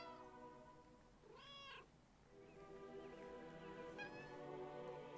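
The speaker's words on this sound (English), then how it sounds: "Eine Katze." A cat in the video game 11-11: Memories Retold gives one clear, close meow, then a fainter second call, set over a steady hum of background music and ambience.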